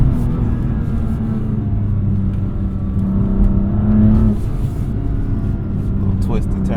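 A BMW M2 driven on the road through Detroit, its engine holding a steady loud drone with a slight swell in revs and a rush of road noise, heard from inside the car.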